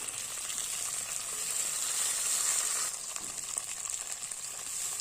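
Onion, green chilli and garlic fry in oil with a steady, bright sizzle. A soft shift around the middle comes as tomato goes in, and the frying continues close and even with no talking.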